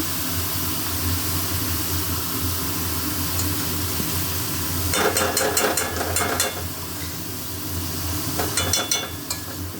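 Ghee meets a hot pan and breaks into a crackling sizzle halfway through, over a steady background hiss, with a second sputtering burst near the end.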